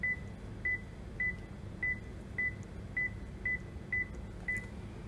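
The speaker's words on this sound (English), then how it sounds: "Keep dialing." A fax machine dials a number, giving a steady series of about nine evenly spaced short beeps over a low background hum, with no voices.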